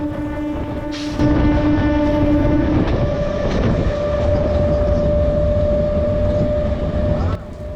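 Narasapur MEMU Express 17269 runs between Undi and Bhimavaram Town with a loud, continuous rumble and rattle, sustained tonal droning riding over the clatter throughout.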